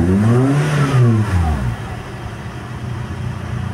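A car engine revs up under throttle after an idle-up bypass using the aircon, its pitch rising and falling over two strong blips before settling back to a steady, loud idle.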